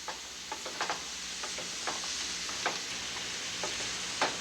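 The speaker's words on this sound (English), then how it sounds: "we want to let these vegetables saute until they're nice and" Vegetables for a Cajun Creole dish sauté in a pot with a soft, low sizzle and repeated light clicks and scrapes of a spoon stirring.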